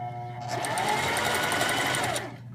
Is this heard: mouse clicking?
no